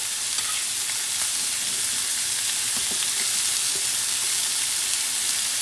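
Steak frying in a hot pan with garlic butter paste and rosemary, a loud, continuous sizzle and hiss with faint crackles and pops, close and steady throughout.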